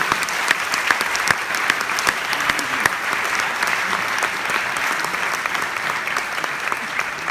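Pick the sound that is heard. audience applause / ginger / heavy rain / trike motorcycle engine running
audience applause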